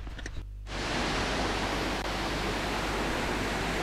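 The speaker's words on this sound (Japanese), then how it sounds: "さあ、名物の滝行の場所へ来てみました。" Falling water roars at the waterfall used for waterfall ascetic practice at Oiwa-san Nisseki-ji temple in Toyama, a loud steady rushing that swells in abruptly after a brief quieter moment and continues unbroken.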